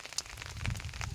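Rain falls through thick fog, giving a brief, soft, steady patter with no voices.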